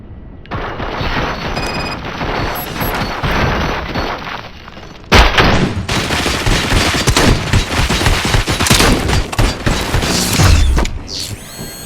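Heavy sustained gunfire in RoboCop: Rogue City, dense bursts of automatic fire with mechanical clatter, growing louder and more intense midway and continuing in rapid volleys to the end.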